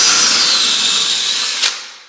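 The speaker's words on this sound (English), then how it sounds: "Drill all the way in." A power drill bores a peephole hole through a door for a door viewer, a loud steady high-pitched whine that holds for about two seconds before a brief surge and a tapering finish, with no talking.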